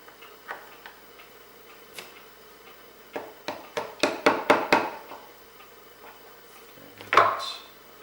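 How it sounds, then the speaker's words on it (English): A metal punch is tapped with a hammer to drive the sear pin out of a CZ pistol, giving a series of sharp close taps that build into a quick rhythmic run, then one louder knock. "drive out the existing Sear pin. Let's start it with a punch."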